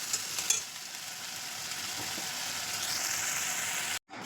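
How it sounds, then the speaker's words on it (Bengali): Masala for Bengali chicken kosha frying and being stirred in a pan, a steady close sizzle with scraping stirs, cutting off abruptly near the end. "মশলাটাকে কিছুক্ষণ ধরে নাড়বো"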